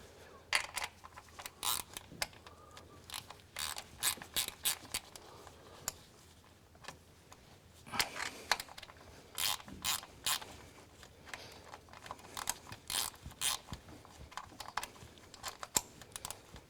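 A ratchet clicks in short, quick bursts while tightening a nut on an engine's cylinder head, the close, crisp ticking coming in repeated runs with brief pauses between strokes.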